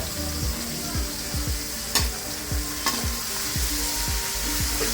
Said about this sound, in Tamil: திருப்பியும் முதல்ல வெங்காயம் போட்டு